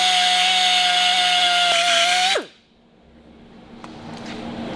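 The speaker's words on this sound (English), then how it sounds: "let's just Dremel a bit of that out to give us our groove back." A Dremel rotary tool grinds a groove in a metal gear-selector part on a 1957 Volvo Sugga, making a loud, close, high whine for about two seconds before winding down abruptly into quiet.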